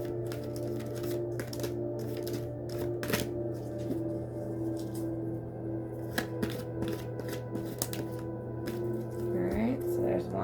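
Tarot cards are shuffled and drawn from the deck in soft, quick papery flicks and taps. A steady hum runs underneath, and a voice speaks quietly through part of it.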